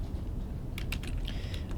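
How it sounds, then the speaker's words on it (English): Typing on a computer keyboard, a handful of quick, faint key clicks in a short run over a quiet background. "So I'm going to type health concerns"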